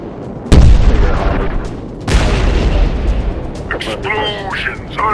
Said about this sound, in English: Explosions! I love explosions!